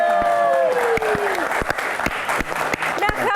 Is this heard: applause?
yes